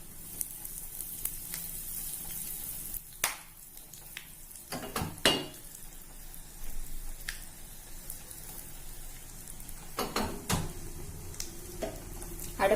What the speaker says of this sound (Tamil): கடுகு பொரிஞ்சிட்டு கொஞ்சமா காயப்பொடி போடுறேன்.